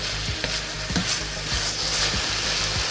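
Beef and vegetables stir-frying in a pan give a steady, close sizzle, with repeated scraping stirs and clacks from the utensil throughout and no talking.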